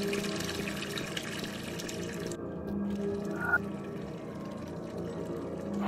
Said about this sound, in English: Doesn't turn down that fucking water sound though